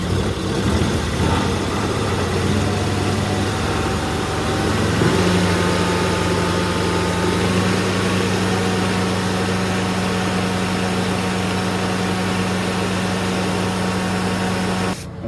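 A portable carpet cleaning machine's engine runs loud and steady at close range, rising slightly in pitch after a few seconds and then holding a constant droning hum throughout, with no talking.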